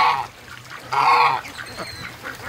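Loud, nasal honking calls of geese and ducks by a creek, several close honks in quick succession with fainter calls in between.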